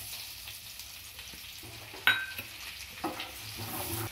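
Onions hit hot oil in a pan for an egg pepper fry, giving a soft, steady sizzle with a few light clinks and stirring scrapes, fairly quiet and close.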